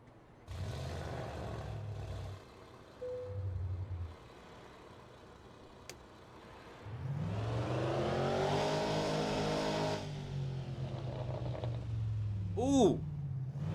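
A Mercedes C63 AMG with a 6.3-litre V8, modded into Euro Truck Simulator 2, cranks with short starter bursts, then fires into a loud, rumbling idle that swells with revs, with someone talking over it.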